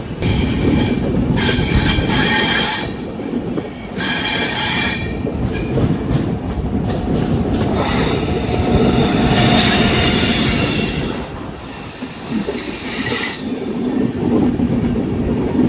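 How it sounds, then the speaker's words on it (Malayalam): The Island Express passenger train rolls past near Bangalore on a cool evening, loud and close, with continuous rumbling, clattering wheels and repeated bursts of high squealing as carriages go by. "നമ്മുടെ നാട്ടിലേക്ക് പോകുന്ന ഐലൻഡ് എക്സ്പ്രസ് ആണ് ഗൈസ് ഇത് പോകുന്നത് കേട്ടാ"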